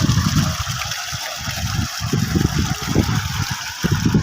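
Water gushes steadily from a pump running on a 19-panel solar system, a loud continuous rushing splash with a churning low rumble close by, no voices.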